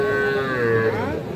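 A three-month-old bull calf at a cattle market lets out a single long, close moo that is loud and holds steady before trailing off.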